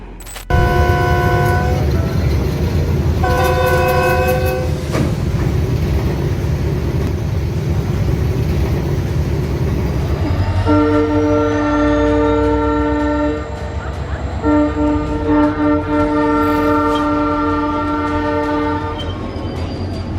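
An oncoming train sounds its horn in long blasts while rolling along the tracks, a loud rumbling pass with sustained multi-tone honks, first in short bursts then held longer.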